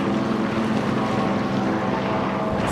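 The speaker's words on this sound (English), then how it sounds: "I see our little jet skis, I think." Jet skis passing by on open water give a steady, loud, broadband engine roar with churning spray that holds throughout the short stretch, with no voices.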